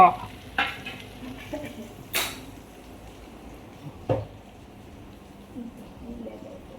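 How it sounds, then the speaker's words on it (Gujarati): Stuffed brinjals sizzle quietly in a pan while a spoon scrapes and clinks against it a few times, with sharp metallic taps standing out. "સરસ મજાનો વઘાર કરી દીધો છે ભરેલા રીંગણનો"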